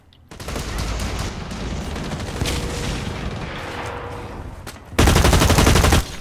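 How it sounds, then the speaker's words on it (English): Rapid automatic gunfire from the online shooter Blacklight Retribution, a dense sustained burst of shots with a louder, harsher volley near the end, heard alone without talk. "Someone's shooting at me."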